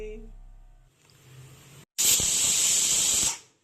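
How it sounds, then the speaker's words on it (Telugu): Steam releases from a pressure cooker holding veg biryani: after a low murmur and a brief pause, a loud steady hiss bursts out for over a second and then cuts off. "ఇలా ఆవిరి మొత్తం పోయిన తర్వాత మనం లిడ్ ఓపెన్ చేసుకోవాలి"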